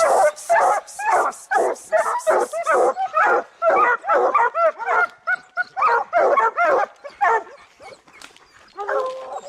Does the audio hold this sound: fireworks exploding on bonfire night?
no